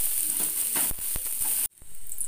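Cauliflower frying in oil in a pan, a steady loud hiss of sizzling with a few stirring knocks, cutting off abruptly near the end to a quieter sizzle.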